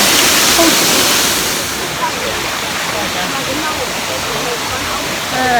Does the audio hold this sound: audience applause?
no